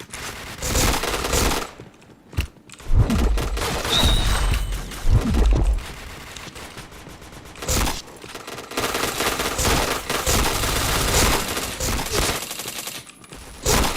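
Automatic gunfire in the shooter game Point Blank crackles in long rapid bursts, loud and close, broken by brief pauses and a few sharp single shots between the volleys.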